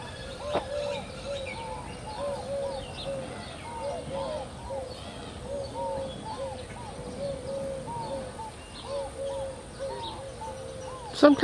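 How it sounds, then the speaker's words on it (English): At a wildlife zoo, a bird repeats soft cooing calls in a steady series, moderately near, over a low background murmur with a brief knock at the start and a louder clatter at the end. "Some kind of a bird."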